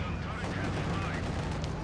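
Rapid gunfire in Company of Heroes 2 strikes a peasant penal squad, a dense, loud, continuous rattle of shots and battle noise.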